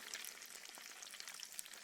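Steady crackling sizzle of cinnamon roll dough deep frying in hot oil at a desert backcountry camp, with dense popping bubbles and no voices.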